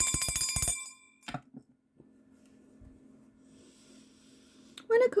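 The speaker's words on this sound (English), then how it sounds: "I'm going to ring the bell." A bell rung once by hand, a bright ringing strike that decays over about a second, followed by quiet room sounds, a faint low hum and a brief rustle near the end.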